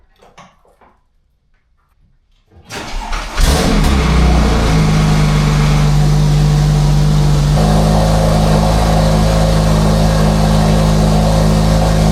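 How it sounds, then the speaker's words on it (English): A 2009 Porsche 997 Turbo cold-starts after a moment of near silence: a brief starter crank, then a loud rev flare that settles into a steady, high, rumbling idle, close and alone. "let me get the battery tender off and, do a little cold start for you guys"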